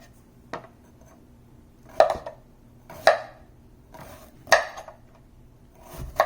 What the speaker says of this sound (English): Always when I get the garlic, I like to cut it this long way.